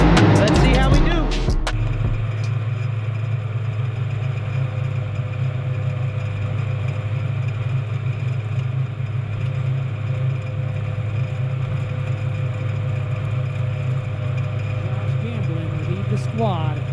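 Compact race cars line up for a heat race: a loud thump opens, then a close, steady idling engine rumble holds evenly throughout.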